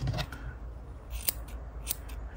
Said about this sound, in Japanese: ハサミを寝かしてほんと少しずつカットしてください。